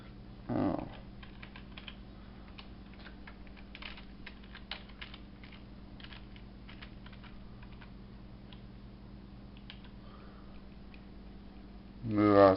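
Someone types on a computer keyboard, with faint, scattered key clicks in a quiet room and brief louder thumps at the start and end.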